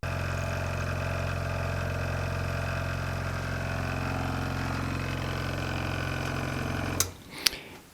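Pump pushing clean water through wine filter pads, a steady mid-pitched motor hum with a low drone running unbroken for several seconds, then cutting off, followed by a couple of sharp clicks.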